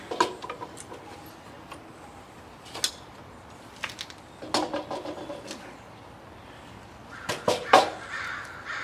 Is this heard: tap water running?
no